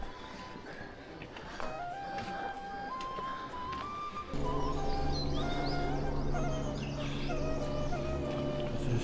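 Birds chirp and call along a trekking route in cold mountain weather, with a steady wash of river water behind them. A few tonal calls sit over the broadband flow, which grows louder partway through.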